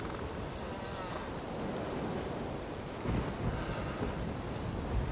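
Stormy weather in The Witcher 3 video game: steady rain and rumbling thunder fill the whole stretch as a dense, continuous wash, with the rumble swelling louder near the end; no voices.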